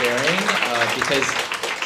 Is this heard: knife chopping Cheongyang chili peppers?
no